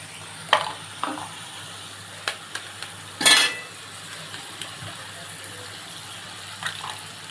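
Egg and eggplant are stirred in a frying pan, with soft scraping and a few utensil knocks over a low sizzle and one louder clatter in the middle. The sounds are close and steady, and there is no talk.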